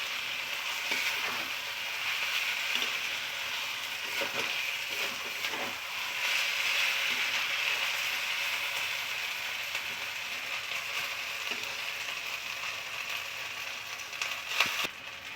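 Thor muri ghonto, a Bengali banana-stem and rice dish with garam masala, being stirred in a frying pan, giving a steady soft sizzle with faint scraping strokes throughout, close by and without talk.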